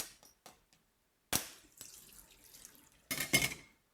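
Coconut water spilling out as a coconut is cracked around its middle, a short burst of splashing and trickling after a few faint taps, then a second louder gush near the end, with no talk.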